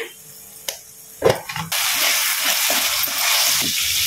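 Curry leaves hit hot oil in a tiger prawn curry: a few soft clinks first, then a sudden loud, bright hiss of sizzling that holds steady to the end.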